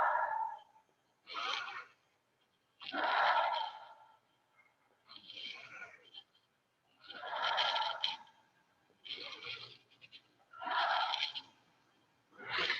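Slow deep breaths in and out during shoulder rolls, a series of about eight close breathy rushes separated by short quiet gaps in an even rhythm.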